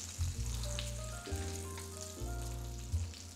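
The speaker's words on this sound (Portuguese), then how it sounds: "Pegar numa colher e colocar a manteiga por cima do borrego." Lamb sizzles in a pan while butter is spooned over it, a steady close frying hiss running through the clip beneath a sustained low tonal hum.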